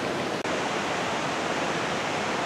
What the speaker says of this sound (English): you can probably hear Crystal Creek that we crossed at the beginning